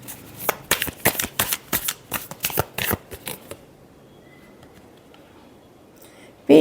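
Tarot cards shuffled by hand in a rapid burst of papery flicks and snaps for about three seconds, close up, followed by near silence and a brief knock at the end.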